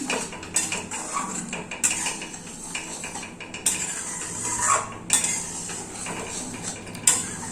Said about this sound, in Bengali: এবার আমি দুধটাকে একসঙ্গে ভালো করে মিশিয়ে নিচ্ছি